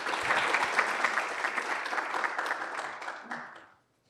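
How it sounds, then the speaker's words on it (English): Sustained applause from a seminar audience welcoming a speaker, many hands clapping steadily and loudly before fading out near the end. "let's have a round of applause for Professor Dai, and let's welcome him."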